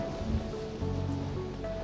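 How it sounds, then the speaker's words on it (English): Strong wind sweeps across open moorland on Dartmoor, a steady rushing roar with soft buffeting and no voices. "It's a bit difficult walking against this wind."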